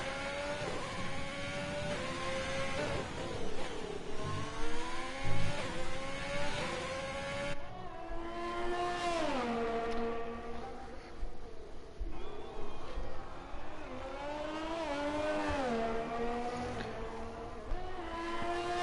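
A Ferrari F1 car engine screams through a lap in an F1 esports racing game, high-pitched revs rising and falling with gear changes and braking, under steady commentary from people talking.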